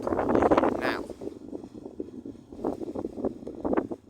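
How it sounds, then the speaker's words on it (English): Strong wind buffeting the microphone outdoors at disused bus stops in Thurso, a loud continuous rumble that swells and gusts throughout, with no voice over it. "I don't even know how well you'll be able to hear me here because it is very windy"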